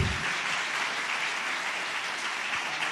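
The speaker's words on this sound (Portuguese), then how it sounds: "Você pode aplaudir o Senhor?" A church congregation applauds the Lord in a Portuguese-language service: steady, fairly distant applause from many hands forming an even wash of sound with no voices over it.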